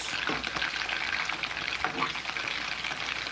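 Fish seasoned with salt sears in a hot pan. A dense, even frying sizzle carries on close and unbroken, with faint crackles and no voices.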